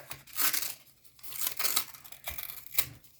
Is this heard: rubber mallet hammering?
no